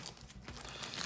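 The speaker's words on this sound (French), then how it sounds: "on va mordre le display pour enlever le papier" Paper wrapper being bitten and torn off a Pokémon booster display box: close crinkling and crunching rips, brief and textured, building in intensity with no talk.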